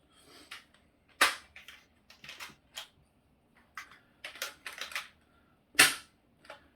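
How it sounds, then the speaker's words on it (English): An Outlaw Max toy blaster being reloaded quickly, a run of sharp mechanical clicks and clacks at an uneven pace, two of them noticeably louder, heard close with no talk. "Nice quick reload."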